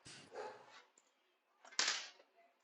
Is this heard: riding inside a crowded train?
no